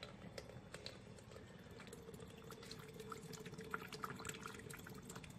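An apple cider mix is poured at a smoked pork shoulder grill session, a soft continuous liquid trickle with small splashes and drips, faint and close, with no talk.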